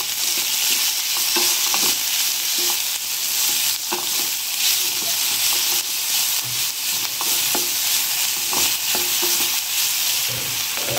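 Capsicum curry frying in oil in a pan, with a steady close sizzle and repeated stirring scrapes throughout, no talking.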